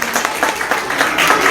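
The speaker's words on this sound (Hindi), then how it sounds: "जोरदार तालियों के साथ स्वागत" Audience applause at a public function in Gorakhpur as a guest is welcomed, a loud, dense burst of many hands clapping that carries on steadily throughout.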